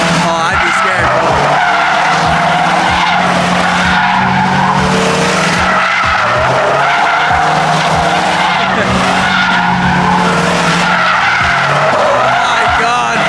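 A car drifts with loud, continuous tire squeal and a roaring engine around a parked Lamborghini SVJ at Monterey Car Week. The screech is sustained and close, with voices audible underneath.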